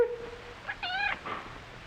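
A cat meows twice in quick succession, a short rising-falling call, fairly close and clear against a quiet room with faint background hum.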